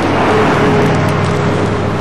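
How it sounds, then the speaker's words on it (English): A snowplow drives past on a snowy street in Kingston, Ontario, during a snowstorm, giving a loud, steady engine rumble and scraping roar that stays constant throughout. "Another snowplow going by."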